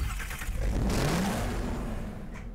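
An Audi TT RS engine revs in the Need for Speed Hot Pursuit racing game, a loud close rising rev that climbs in pitch and then holds and fades slightly.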